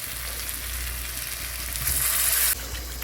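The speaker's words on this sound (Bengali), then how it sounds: "এখন আমরা পরিমাণ মতন জল দিয়ে নিচ্ছি।" Potato, pointed gourd and paneer curry sizzles steadily in a hot pan. Water poured in brings a brighter, louder hiss for about half a second before the steady frying returns.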